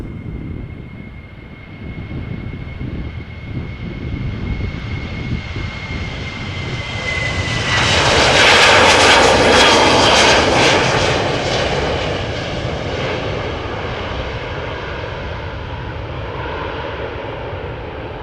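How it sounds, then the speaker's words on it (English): A Boeing 737-700 departing Amsterdam Schiphol for Geneva, its jet engines building from a distant whine to a loud broad roar as it passes, then fading into a lingering rumble. "Next up, a Boeing 737-700 outbound to Geneva."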